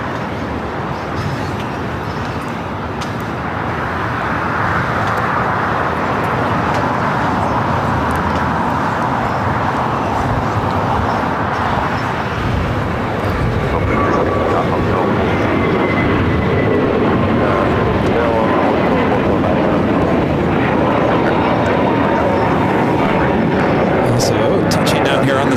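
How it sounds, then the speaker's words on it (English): A Fiji Airways Airbus A350-900 comes in to land on runway 25L at LAX, a broad, loud roar of engine and air noise that builds and holds steady throughout, with commentary voices over it. "Fiji 810 about to land here on 25 left"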